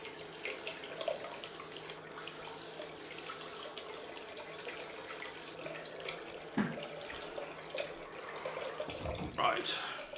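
Cold tap water runs steadily into a sink while someone rinses their face after a head and face shave, with a constant splashing flow and a few louder splashes near the end.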